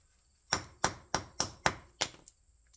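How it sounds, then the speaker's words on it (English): Six sharp, close metallic hammer strikes smashing a spark plug from a 1973 AMC Gremlin, in quick succession, each ringing briefly, with a couple of faint taps trailing after. "but granted, we're hitting it with a hammer."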